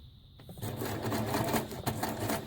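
Sewing machine stitching ruffles in fabric, starting after a brief pause and running as a fast, steady mechanical whir with rapid needle clatter, close and clear.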